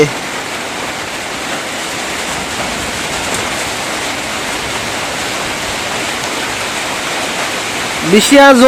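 Heavy rain pours down in a steady, dense hiss that stays loud and unbroken, with a short, sharper sound breaking in at the very end.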